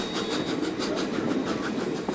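A Virginia and Truckee Railroad steam train climbs from Carson City toward Virginia City, with a loud, steady rolling rumble and a rhythmic clatter running without pause.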